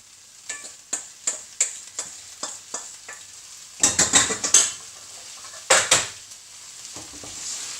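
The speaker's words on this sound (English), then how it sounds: "Give that a gentle stir." A utensil clinks and scrapes rhythmically against a frying pan while butternut squash and bacon sizzle steadily underneath, with a few louder clatters partway through.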